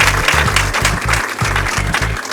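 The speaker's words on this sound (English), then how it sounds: "Give me a chairmanship round of applause" Audience applause at an Akwa Ibom State 35th anniversary event, a steady wash of clapping held at an even level, with a low rhythmic hum or music pulsing underneath throughout.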